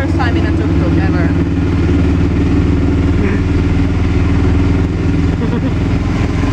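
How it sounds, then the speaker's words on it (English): Tuk-tuk auto rickshaw engine in Kochi running steadily while riding, a continuous low mechanical drone with rattling clatter, close and loud throughout, with a voice talking over it. "It's our first time in a tuk-tuk ever."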